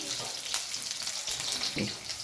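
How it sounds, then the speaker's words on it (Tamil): Onions sauté in a pan for a chicken and intestine curry, giving a continuous soft hissing sizzle with light stirring scrapes and no talking. "வெங்காயத்தை ஆட் பண்ணிக்கலாம். நல்லா வதங்கட்டும்."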